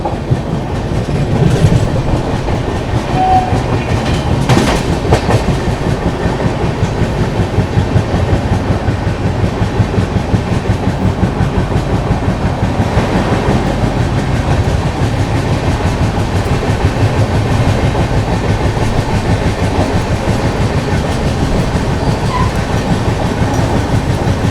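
The KSR Bengaluru–Chennai double decker express runs at speed, heard from on board as a loud, steady rumble with continuous clickety-clack of wheels over rail joints throughout.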